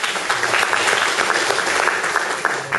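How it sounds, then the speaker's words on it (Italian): Audience at a political gathering in Casoli, Italy, applauding, loud continuous clapping from a packed room that holds steady throughout without any speech. "applauso anche per l'ingegnere Antonio Salino, segretario DC di Casoli,"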